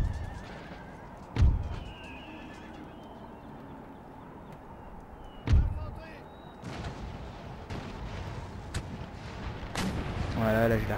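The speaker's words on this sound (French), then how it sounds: "là j'ai l'artillerie qui les tient en respect. Ça leur fait des dégâts" Artillery firing in the video game Empire: Total War, two heavy booming cannon shots several seconds apart with further lighter gunfire, horse whinnies and a busy battlefield rumble filling the gaps.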